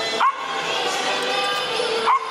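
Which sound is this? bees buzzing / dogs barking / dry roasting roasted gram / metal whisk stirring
dogs barking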